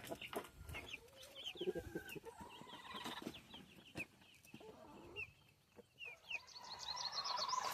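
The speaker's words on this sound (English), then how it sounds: "See that rooster? He's mad at the other one for mating with that chicken." Rooster and hens clucking and squawking in a coop of young chickens, agitated calls overlapping at close range over steady background noise.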